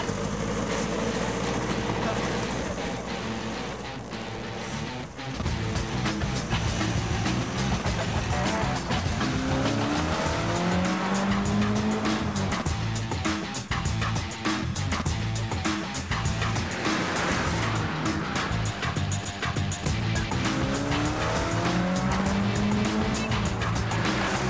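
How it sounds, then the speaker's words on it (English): A biofuel race car laps a wet track in a motorsport test, its engine revving up and down through the gears with rising and falling pitch sweeps, loud and close, and tire spray hissing underneath. "time for Johnny to test the biofuel car"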